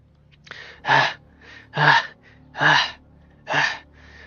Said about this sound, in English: All she manages to accomplish is produce a rapid whooshing noise from her throat, like a set of bellows.